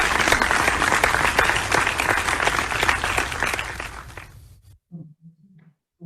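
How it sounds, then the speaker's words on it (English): A room full of research summit attendees claps thickly and steadily, then the applause thins and dies away, leaving a brief quiet voice at the end. "Round of applause po."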